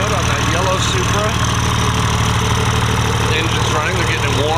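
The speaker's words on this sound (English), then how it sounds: "The engine's running, they're getting it warm." A yellow Toyota Supra idles on a cold early morning in a busy pit area, a steady low engine drone running continuously while crowd chatter and other activity carry on around it.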